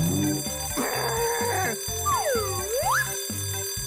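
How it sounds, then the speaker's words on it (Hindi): A cartoon alarm clock rings loudly in a steady, rapid rhythm, joined by whooping, swooping electronic tones and comic sound effects, with no voices. "अलार्म क्लॉक, तुम फिर से।"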